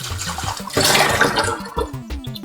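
Water splashes and gurgles while a container is rinsed out, a rushing burst in the middle with dripping and clunks around it, close and fairly loud.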